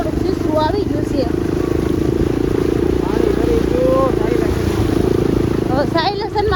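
A car pushing through deep floodwater on a road, with a steady engine rumble and continuous churning, splashing water throughout, while people talk over it.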